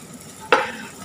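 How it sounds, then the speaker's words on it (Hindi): Garlic and green chili hit hot ghee for a dal tempering, giving one quick, sharp sizzling hiss. It fades fast against a low kitchen background. "सिंपल से दाल है गार्लिक ग्रीन चिली का, और घी में तड़का दी है"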